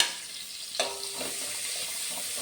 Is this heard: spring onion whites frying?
yes